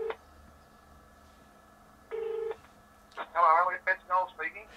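A phone placing a call through a voice assistant: a steady tone, a short second tone burst, then a chirpy series of prompt sounds, clear and close with no talk over it.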